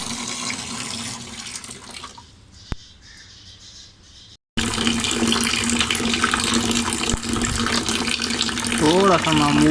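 Water is poured over a Yamaha YBR G motorbike during a wash. A quieter, muffled stretch with a sharp knock gives way after a brief silence to a loud, sustained splashing gush that continues to the end.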